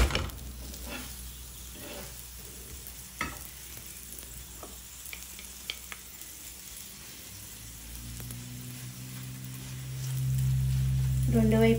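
Onion paratha sizzling in oil on a pan as it is flipped and fried on both sides: a soft steady sizzle with occasional scrapes and taps, then a louder low hum rising near the end.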